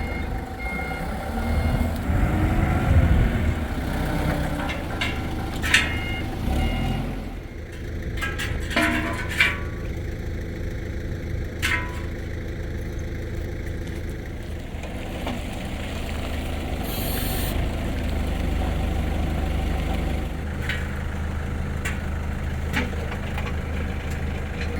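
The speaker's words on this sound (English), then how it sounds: "Last thing I need to do is start the compressor" An air compressor engine for a RapidBlast SD140 dustless blaster is started and runs at a steady drone, with reversing beeps and clanks near the start before it settles into a continuous hum.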